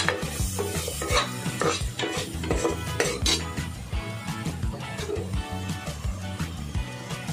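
Coconut and masala fry in a pan for a chicken rassa curry, a spoon scraping and knocking the metal pan in quick, repeated strokes over a constant sizzle, close and busy throughout, with no talking.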